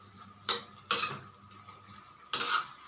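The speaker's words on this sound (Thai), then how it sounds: "ผัดไปเรื่อยๆครับผัดให้น้ำมันแห้งน้ำมันข้น" Pork fat being stir-fried in a pan for a northern Thai pork curry, heard as three short, bright scraping stirs against a quiet low hum, with no voices.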